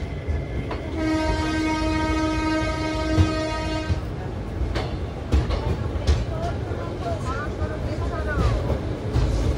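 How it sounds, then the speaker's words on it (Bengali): The Teesta Torsha Express sounds its horn in a long steady blast arriving at New Jalpaiguri station in the rain, then the rumble and clatter of rail cars rolling past continue, with people talking nearby. "একেরে প্ল্যাটফর্মে আমাদের ট্রেন এসছে"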